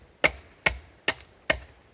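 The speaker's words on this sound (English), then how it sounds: "chopping it flat." Four sharp, evenly spaced chops of an adze or axe striking wood to work it flat, each a close, crisp impact with a brief ring, about two per second.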